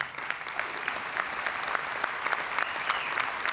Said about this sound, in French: je veux qu'on donne un bon applaudissement pour ces gens